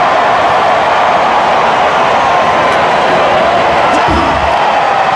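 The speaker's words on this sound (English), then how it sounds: "Crowd enjoyed that tackle." Stadium crowd noise in a Brumbies vs Reds Super Rugby AU grand final in Canberra, played in a rugby video game, a loud steady roar with a swell of cheering and a brief thump near the end.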